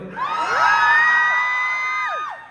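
A concert crowd lets out a loud, sustained burst of high-pitched screams and whoops, swelling quickly and holding for a couple of seconds before trailing off, with no talking over it.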